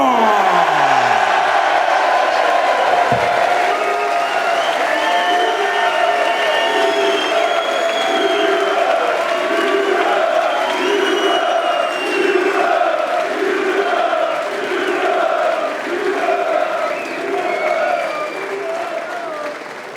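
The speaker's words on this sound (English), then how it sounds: "let's have a big round of applause for both sides" A large crowd at a pool match applauds loudly and continuously, with whoops and rhythmic cheering rising through the clapping before it slowly tapers off.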